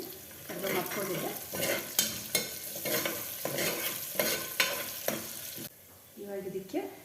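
Curry leaves frying in hot oil inside a pressure cooker, with rhythmic scraping stirs and sizzling bursts, then a short quieter pause before a brief clatter near the end.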